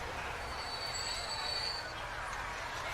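A passenger train running in the Transport Fever video game, with a steady broadband rumble and a sustained high metallic wheel squeal across the middle, heard alone.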